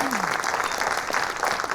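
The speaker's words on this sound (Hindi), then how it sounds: "तो मेरे तरफ से एक बार ताली बजाइएगा," Audience clapping at the Sabrang Awards 2021 Bhojpuri awards show, a dense, steady burst of applause from a large crowd filling the whole moment with no pause.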